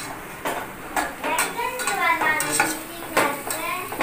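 Onions sauté in a pan for a chicken curry, with a spatula scraping and clinking against the metal in quick irregular strokes over a faint sizzle, close by.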